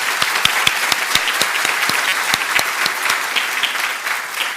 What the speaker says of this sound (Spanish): Yo quiero un fuerte aplauso para él.